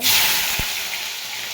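Garlic drops into hot oil for vatha kuzhambu, giving a steady bright sizzle with one soft thump near the start, close and fairly loud with no talking.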